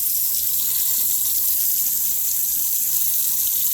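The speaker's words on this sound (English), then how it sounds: "we have water in the sink." Water runs steadily from a newly installed bathroom faucet into the sink, a constant close hiss and splash with no pauses and no voices.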